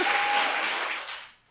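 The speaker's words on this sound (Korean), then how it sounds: "박수!" A studio audience breaks into brief, dense applause that fades within about a second and a half.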